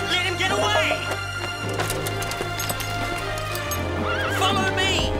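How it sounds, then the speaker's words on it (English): A horse, the Silver Colt brumby, neighs and whinnies loudly over a dense musical score, its hooves clip-clopping as it runs, with a second whinny near the end. "That's my horse!"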